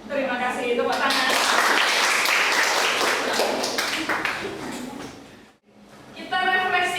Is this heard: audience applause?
yes